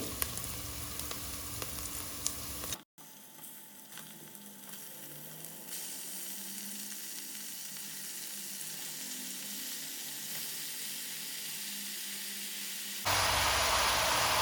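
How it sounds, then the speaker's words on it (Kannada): Mutton dropped into onions already fried in hot oil, giving a steady, loud sizzle that cuts out briefly, resumes as a softer continuous fry, then swells again near the end. "ಈರುಳ್ಳಿ ಚೆನ್ನಾಗಿ ಫ್ರೈ ಆಗಿದೆ ಈಗ ಮಟನ್ ಹಾಕ್ತಾ ಇದ್ದೀನಿ"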